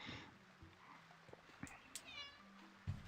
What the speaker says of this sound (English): I hear you, cat.